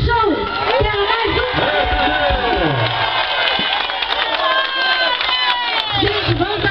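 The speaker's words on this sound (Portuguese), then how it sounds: "eu quero que vocês aplaudam a família do Tadeu que está no show" Lively crowd at a neighborhood show in Brazil cheering, shouting and applauding in honor of a family, with excited voices and whoops dominating over the clapping.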